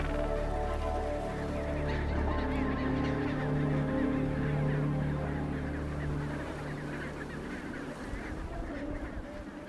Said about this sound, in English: Failed mating attempts such as this one have been observed more and more in the past 5 years